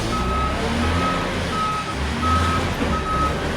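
A huge vehicle moves with loud, steady reversing beeps repeating at an even pace over a deep, continuous engine rumble close by.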